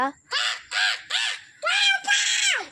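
Crows caw five times in quick succession, loud and close, with short pauses between the harsh calls and the last two drawn out longer.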